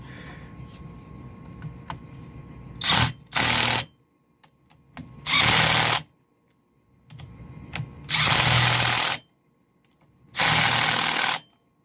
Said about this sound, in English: let's go ahead and just snug these up